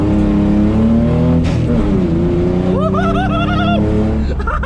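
A car with 3.27 rear-end gearing accelerates hard while driving; its engine note climbs through repeated rising sweeps, loud and close, with a gear change midway.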